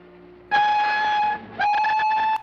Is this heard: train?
yes